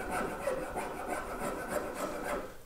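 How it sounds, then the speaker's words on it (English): Rough side of a file worked across a live-edge walnut countertop, a continuous rasping scrape in quick repeated strokes, close and steady. "Next, I would hit it with the rougher side of the file"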